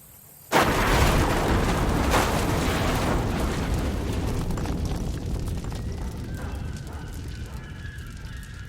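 A small bomb goes off with a sudden loud blast, followed by a long, broad roar that slowly fades over several seconds.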